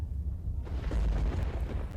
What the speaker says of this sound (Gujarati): આ વરસાદી માહોલ વચ્ચે વીજ ડીપીમાં કડાકા ભડાકાના દ્રશ્યો છે